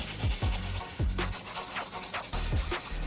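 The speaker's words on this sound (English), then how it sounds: "Rub the burnwood gently against the sandpaper until it turns into fine powder." A lump of charcoal is rubbed against sandpaper and ground into fine powder, producing repeated close, gritty rasping strokes in a back-and-forth rhythm with no voices.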